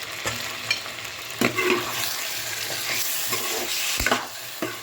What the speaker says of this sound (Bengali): এইবারে আমি আলু লম্বা লম্বা করে কেটে ভেজে রেখেছি ভাজা আলুটা দিয়ে দেবো